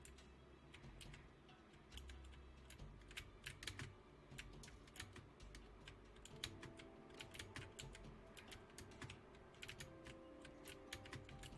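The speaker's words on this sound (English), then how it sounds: "Sorry for my keyboard sounds." Rapid computer keyboard typing clatters throughout during a Sun Haven gaming session, dense irregular keystrokes close to the mic with sharp clicks and no talking.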